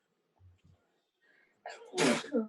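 A single loud, explosive sneeze bursts out after a couple of brief, quiet spoken words.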